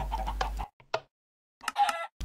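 Short clucks from a chicken in Minecraft, a few clipped bursts separated by silent gaps, with faint clicking from nearby game mechanisms.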